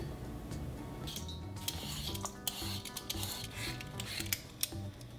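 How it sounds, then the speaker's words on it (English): Luffa gourd skin is peeled away with a peeler in a kitchen. Close, soft rasping scrapes repeat in uneven strokes, with a few sharper ticks of the blade. "Just like peeling cucumbers"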